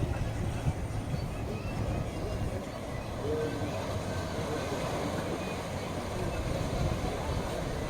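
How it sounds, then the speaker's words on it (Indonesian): Heavy ocean waves pounding coral reef on a rugged Indonesian coast at Garut, a steady dense roar and wash filling the whole stretch, heard from some distance, with no voices over it. "ombak yang bergulung menghantam keras karang-karang itu"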